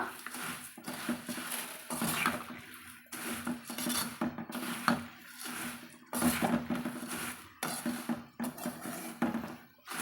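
Puffed rice and other snack ingredients are stirred in a bowl, with repeated scraping and rattling strokes of a utensil in an uneven rhythm, close and moderately loud, and no speech.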